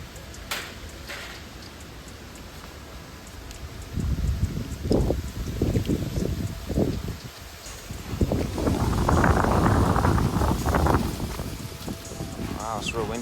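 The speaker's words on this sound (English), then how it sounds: "Wow, it's real windy out here." Strong outdoor wind buffets the microphone in loud, rumbling gusts that surge and fade, with rustling and a voice speaking briefly beneath the roar, at an outdoor spot set up for shooting airsoft and air guns at an oscillating fan.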